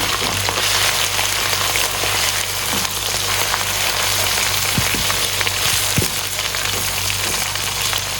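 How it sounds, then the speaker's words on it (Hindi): Ginger garlic paste fries in hot oil in a pan for a pulao, making a loud, continuous close sizzle with a low steady hum beneath and a few sharp knocks, with nobody talking. "इसमें डाल देंगे अदरक और लहसुन का पेस्ट और इसे करेंगे हम फ्राई"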